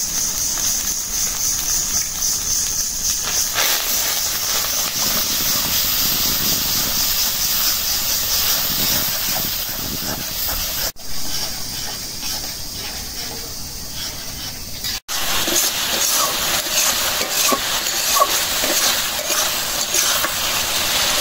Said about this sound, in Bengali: মশলা ভালো করে কষাই নিচ্ছি, পেঁয়াজটা একদম গলে গেছে